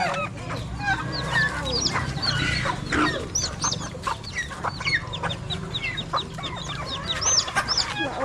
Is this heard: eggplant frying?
no